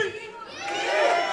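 Wrestling crowd at a pro wrestling event cheering for Ray Fury at the bell, a steady wash of shouts and cheers that swells louder toward the end.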